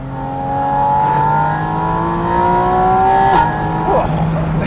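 A Porsche Boxster Spyder RS with the GT3 engine revs hard toward 8,000–9,000 RPM, its rising harmonic wail building steadily, peaking, then dropping back, loud and close throughout.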